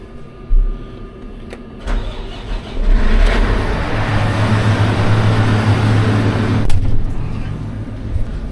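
A combine harvester's engine idles loudly and steadily nearby during refuelling, a deep continuous rumble that settles in after a few clunks and knocks.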